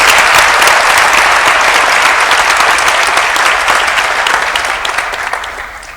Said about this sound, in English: I would like to suggest that we give our 14 doctorandi another round of applause